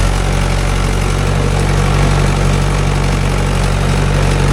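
A Mahindra Yuvo Tech Plus 585 DI 4WD tractor diesel engine idling up close, a loud, steady low rumble with constant throbbing and no pauses.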